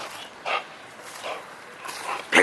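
Pit bull dog barking and growling, several sharp, fairly close barks spaced across a couple of seconds, with a louder burst at the end.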